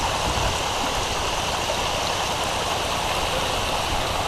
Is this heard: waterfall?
yes